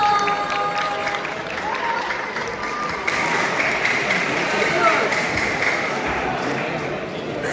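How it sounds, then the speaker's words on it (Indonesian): A school audience of junior and senior high students claps to welcome a speaker, a steady wash of applause that continues throughout with some crowd murmur mixed in. "Boleh kasih tepuk tangan teman-teman."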